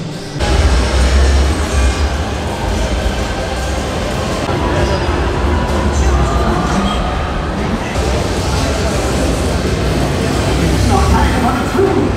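Voltron Nevera roller coaster trains at Europa-Park launching from the propulsion zone and returning, a steady loud rumbling rush of wheels and track noise with a constant low-end roar throughout and a voice talking over it.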